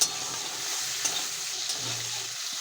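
Shrimp, green chilies and five-spice hitting hot oil in a wok, a steady soft sizzle and frying hiss running throughout at moderate volume with a faint scrape partway through.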